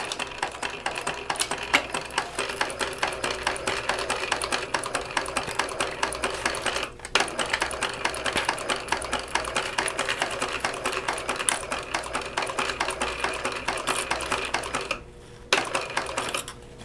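A sewing machine stitches a seam on a fabric shoulder bag with a fast, steady mechanical rattle that runs almost without a break, with one short pause near the end.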